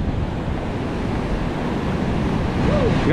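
Big ocean waves surge and rumble continuously on a fishing outing, heavy broadband roar mixed with wind buffeting the microphone, growing slightly louder toward the end.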